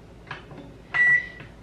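A microwave oven gives short electronic beeps as its clock is set, a few quick blips followed by one longer sustained tone, close and fairly quiet in a still room.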